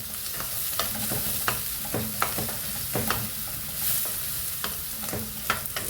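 Onions and chicken sizzle steadily in a pan for a North Indian style Maharashtra chicken curry, with repeated scraping stirs of a utensil across the pan over the constant frying hiss.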